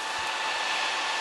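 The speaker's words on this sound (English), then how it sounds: "you can hear the fan is running pretty hard" A PS3 cooling fan roars steadily at high speed, a loud, even whoosh of rushing air with no pauses or voices.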